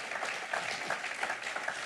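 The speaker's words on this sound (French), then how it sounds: "quelqu'un acclame le Seigneur, alléluia" A church congregation claps and cheers in praise, a dense, steady wash of applause from the whole room.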